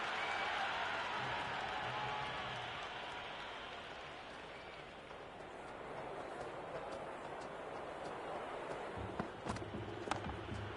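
Stadium crowd at a Pakistan vs India one-day international cricket match in Rawalpindi roars and applauds after a big hit, a dense, sustained wall of cheering with scattered claps and a commentator talking over it.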